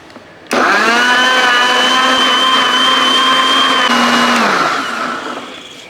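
A blender grinds ripe mango with sugar and milk, starting abruptly with a loud, steady whirring roar that runs several seconds, then drops in pitch and winds down near the end; no one speaks.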